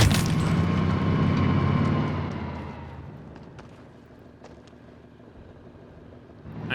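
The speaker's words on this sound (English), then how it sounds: "Shoots a rocket." A rocket launched at a vehicle in the Warzone solos battle royale game: a loud broadband blast with a rumbling roar at the start that decays over a few seconds into a quieter low rumble, with a few faint sharp clicks following.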